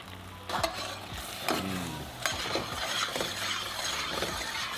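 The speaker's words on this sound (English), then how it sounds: "I have all the pork ribs going down." Pork ribs frying in a pan, making a constant sizzle with repeated utensil scrapes and knocks against the pan roughly every second, close up and with nobody talking.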